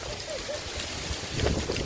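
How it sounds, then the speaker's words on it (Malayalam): Strong wind buffets the microphone in a continuous rushing roar, with no clear pauses. "നല്ല കാറ്റുണ്ട്"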